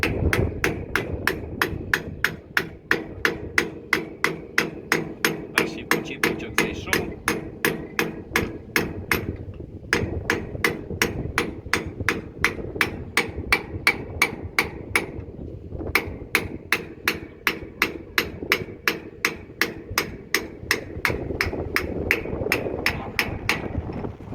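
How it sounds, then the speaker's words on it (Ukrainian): A hammer strikes repeatedly in a fast, steady rhythm, sharp metallic blows close up while repairing a Palesse 812SKh farm machine, pausing briefly twice before resuming. "беремо молоточка, виставляємо більш-менш рівно, щоб було і починаємо забивати"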